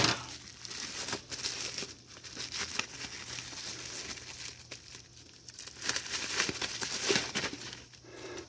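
Plastic packaging for a Banana Pro single-board computer kit crinkles and tears steadily at close range, a continuous rustling with sharper snaps, no talking.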